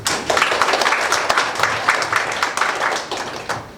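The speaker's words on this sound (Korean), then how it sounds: "박수 부탁드리겠습니다" An audience at a school opening ceremony gives a lively round of close hand clapping that carries on steadily and fades slightly toward the end, with no talking over it.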